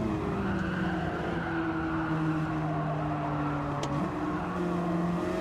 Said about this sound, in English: Lost the car through that corner there, it just slid away.